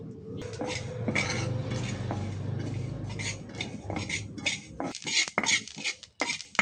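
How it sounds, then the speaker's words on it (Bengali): Nigella seeds frying in a pan as a utensil scrapes and clinks against metal in quick, uneven strokes, close by, over a soft background hiss. "কালিজিরা দিয়ে এখন আমি ভাজিয়ে লইয়াম"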